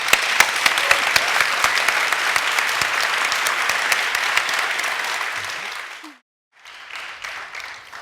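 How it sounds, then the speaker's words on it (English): Loud, dense applause from an audience at a book release event, a continuous roar of many hands that fades out, drops to a brief silence, then resumes more softly. "let's give these two, the book, and Matt Wrbican a joyous round of applause."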